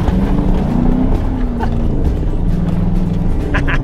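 A rat rod wrecker's engine labors steadily uphill, a loud continuous low rumble with a rising and falling drone, while people talk over it.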